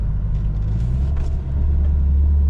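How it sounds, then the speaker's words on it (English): A Lexus SC300 fitted with big brakes slows hard, giving a deep, steady road rumble that stays loud and close throughout with no voices. "And big brakes putting in work."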